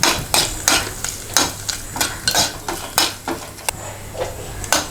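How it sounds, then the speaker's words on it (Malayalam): Small coconut pieces are stirred and sautéed in a pan for kadala curry, with a spatula scraping the metal in repeated distinct strokes roughly every half second over a faint frying sizzle. "ഞാനിപ്പോൾ ഒരു കൈപ്പിടി തേങ്ങാക്കൊത്ത് എടുത്തേക്കുന്നത്. നന്നായിട്ടൊന്ന് വഴറ്റി കൊടുക്കുക."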